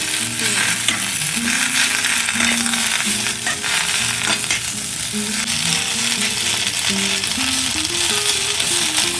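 Ajwain leaves fry and soften in a hot pan for a spicy chutney, giving a steady close sizzle with faint stirring, while tonal background sounds run throughout.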